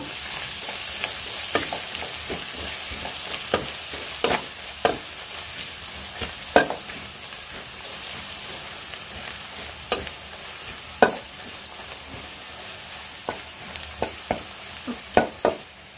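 A spoon scrapes and clacks against a frying pan while spices with turmeric powder and salt are stirred for a chicken paneer masala, with irregular sharp knocks over a steady soft sizzle and no talking.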